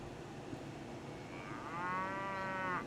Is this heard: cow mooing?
yes